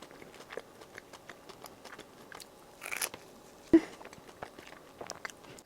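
A crisp croffle topped with salty cheese is bitten into once, giving a single loud crunchy bite that stands out over faint, scattered chewing and crackling close to the mic, with no talk.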